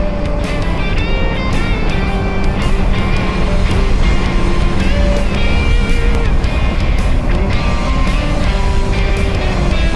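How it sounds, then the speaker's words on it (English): A Kawasaki Versys X 300 motorcycle engine buzzes loudly while riding in third gear, a continuous high-revving whine layered with wind noise and faint tonal shifts, up close throughout. "Any other bike and I'd be looking for the next gear because this thing's buzzing."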